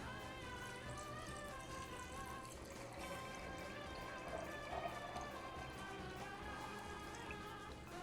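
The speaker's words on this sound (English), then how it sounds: "Then cover them with water." A steady stream of water pours continuously over cashews in a jar, with a bright splashing texture throughout and a slight surge midway.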